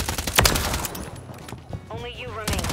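Gunfire in Modern Warfare 3 Cutthroat multiplayer, a few sharp close shots at the start followed by a scattered crackle of fire, with a brief rising electronic tone and voices partly over it.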